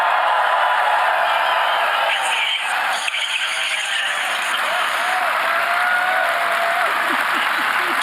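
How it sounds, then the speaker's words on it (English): A big crowd applauds at a speech in Budapest, a dense, loud, continuous wash of clapping that holds steady throughout with faint voices mixed in. "that sounds like a big crowd, and that sounds like my kind of people."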